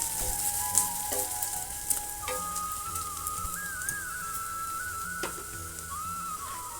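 Vegetable fried rice with capsicum frying over high heat in a pan, a constant close sizzle with occasional scraping stirs and a thin whistling tone running beneath.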